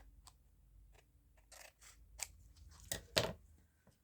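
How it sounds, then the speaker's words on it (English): Scissors trimming excess paper from a journal page, a few quiet close snips and crisp cuts that grow louder toward the end, with no voices. "I am actually going to trim off that excess"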